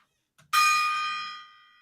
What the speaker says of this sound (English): I have a gong.